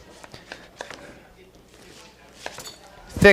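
Knife chopping red onion into thick rings on a cutting board for a rustic caponata, a handful of crisp separate taps with a louder clack at the end.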